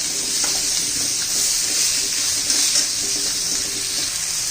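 Finely chopped tomatoes fry in a pan for a spicy egg curry, producing a steady, loud sizzle with soft stirring scrapes and no talking.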